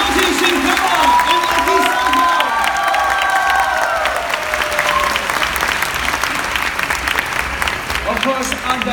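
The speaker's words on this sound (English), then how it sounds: "Once again, please a big round of applause." A large audience at the Death Stranding World Strand Tour event in Singapore applauds loudly and continuously, with scattered cheers and voices mixed into the clapping.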